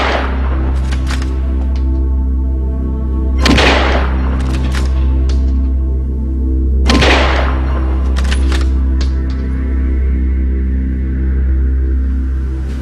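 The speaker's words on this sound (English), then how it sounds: "the Commission has concluded that a rifleman of Lee Harvey Oswald's capabilities could have fired the shots from the rifle used in the assassination" Two sharp, booming rifle shots from a Mannlicher-Carcano bolt-action rifle in a reconstruction test ring out about three and a half seconds apart, each one a loud crack over a steady low hum.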